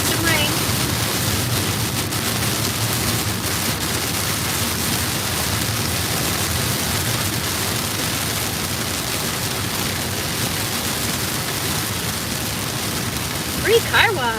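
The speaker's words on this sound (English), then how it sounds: "Anyway, we got some rain." Steady rain falling in Florida, a dense, even hiss that holds at a constant level throughout, with a brief faint voice near the end.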